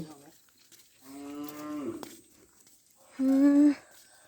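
A cow moos twice nearby, a short low call followed by a louder, longer one, with quiet pauses between.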